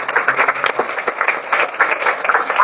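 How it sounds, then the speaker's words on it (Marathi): A church congregation at a Sunday worship service applauding, with dense, continuous clapping from many hands that rises and falls in waves and has no talk over it. "टाळ्या तर वाजवा कंजूस लोकांनी."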